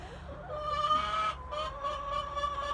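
Chickens cluck in a steady, moderately close stream of short calls with a few higher tones mixed in, and no voices are heard.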